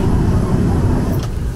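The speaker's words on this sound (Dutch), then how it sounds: "Hey, en dan gaat het vliegtuig opstijgen." Airliner engines roar steadily at close range from inside the cabin during takeoff on a flight out of Amsterdam, a dense, constant low rumble with no pauses.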